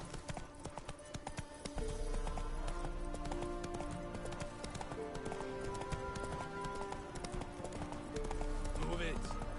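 Roach the horse galloping in The Witcher 3: Wild Hunt, with quick, rhythmic hoofbeats that run steadily throughout alongside other game sounds and a voice.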